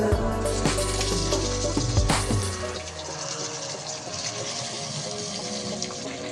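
Mutton drops into a hot pan of fried green chillies for a pepper fry, giving a loud, gushing sizzle for about two seconds that then settles into a quieter, steady frying hiss, with no voices.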